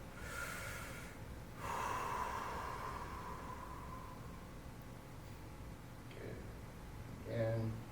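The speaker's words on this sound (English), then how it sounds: "Big breath." A person takes a deep breath during a glute massage on a ball, a long close inhale and exhale over steady background hiss, ending with a short snort-like breath.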